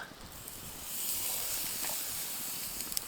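Loud, steady sizzling hiss of steaks searing on a grill in the Canadian wilderness, continuous throughout with occasional sharper pops and crackles.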